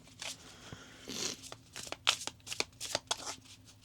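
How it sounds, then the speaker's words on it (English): A deck of tarot cards is shuffled by hand, making a steady, soft, close run of crackling riffles and flicks throughout. "I apologize for any noise from the shuffling"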